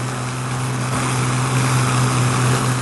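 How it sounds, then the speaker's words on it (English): Avro Argonaut propeller airliner flying on only two engines, with one propeller feathered and another windmilling, gives a steady, loud, continuous drone with a low hum and no talk. "They will feather one propeller, allow another to windmill, and fly the plane on the other two engines only."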